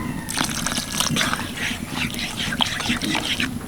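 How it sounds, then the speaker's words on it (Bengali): Water is poured into a pot of chickpea curry, a close, soft trickling and splashing that runs for a few seconds at moderate level. "তার জন্য আমি অল্প একটু জল দিয়ে দেবো"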